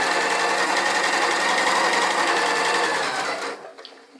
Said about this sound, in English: I have my 1/4" foot installed and I'm sewing each of my pieces together